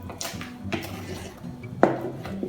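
Chocolate chips are stirred into cake batter in a bowl, with soft wet scraping and a few clinks of the utensil against the bowl, one knock standing out, close and fairly quiet.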